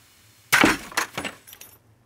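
A small model tower snaps under load in a strength test, a sudden loud cracking break followed by a few quick fainter cracks and rattling pieces, close up, then silence.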